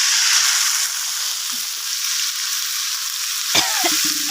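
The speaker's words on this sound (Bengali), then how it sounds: "মাংস কষাচ্ছি।" Meat with leg pieces fries with spices in a pot, producing a loud, steady, close sizzle that holds throughout, with a brief scrape or knock of a utensil near the end.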